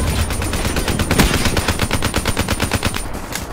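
Sustained automatic gunfire in Call of Duty: Black Ops 3, a rapid, steady stream of loud shots that runs nearly unbroken for about three seconds before cutting off.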